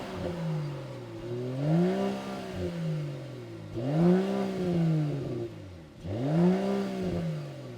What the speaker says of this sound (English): let's take a listen to what that inline-six sounds like